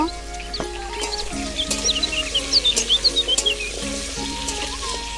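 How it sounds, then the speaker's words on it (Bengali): Potatoes frying in hot oil and being stirred for an eggplant and hilsa fish dish, a steady close sizzle with rhythmic scraping strokes in the middle, plus faint chicken clucks in the background. "প্রথমে আমি আলুগুলো ভেজে নেব আলুগুলো দিয়ে নেড়ে চেড়ে নেব"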